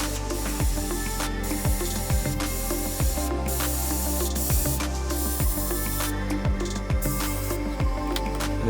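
A loaded airbrush sprays black paint onto the nose and gill plate of a trout-pattern fishing lure, giving a steady close hiss that runs without a break over a low mechanical hum.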